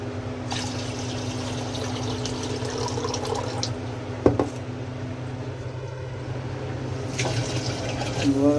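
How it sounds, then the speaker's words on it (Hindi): Water runs steadily from a tap into a drum, a continuous close trickle and gush with a brief clatter midway; a voice speaks over it. "अब टैप दोबारा ऑन कर दिया हमने और इसमें से पानी"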